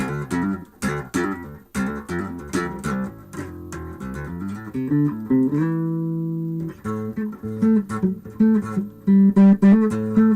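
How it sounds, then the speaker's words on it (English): Plucked notes on a Carlsbro P-bass with a Warman pickup, played up close through a non-bass amp at low volume, with sharp finger attacks on the strings and a sustained held note in the middle, no voices. "you can hear my fingers on the strings"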